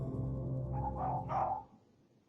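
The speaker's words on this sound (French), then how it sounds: "On peut entendre ses chiens aboyer en arrière-plan" Dogs bark outside, picked up by a security camera: a short burst of a few muffled barks over a low background rumble, somewhat distant, then quiet.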